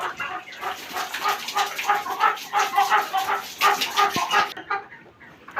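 A sick chicken with a cold wheezes and rasps in a rapid, pulsing series of close, fairly loud calls lasting several seconds before it drops away.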